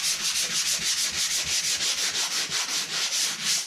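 A worn hand sander rubbing over a drywall crack repair, loud rhythmic back-and-forth scraping strokes, about four per second, close and alone.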